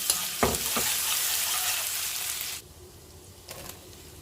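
Pounded chili and garlic hit hot oil left from frying chicken skin, sending up a loud burst of sizzling with a couple of stirring knocks before the sound drops sharply to a quieter simmer, then one brief clatter.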